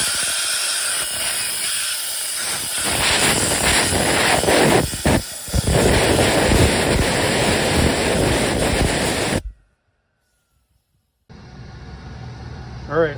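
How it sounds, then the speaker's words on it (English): Compressed air blasting loud and close into the squirrel cage fan of a Val 6 heater, a steady roaring hiss with brief dips, then a sudden cutoff, a couple of seconds of silence and a softer hiss returning. "before you put everything back together, you want to take and blow out your squirrel cage down in here"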